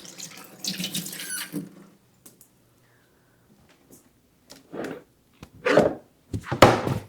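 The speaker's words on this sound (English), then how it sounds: "I'll wash my hands off." Tap water running into a sink while hands are washed after cracking eggs in a home kitchen, a few bursts of splashing rinse at close range, then quieter clatter and short water spurts.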